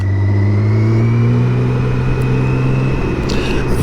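A BMW K1600 GTL motorcycle engine drones loud and close in Milan, its pitch rising slightly as it revs steadily without pause.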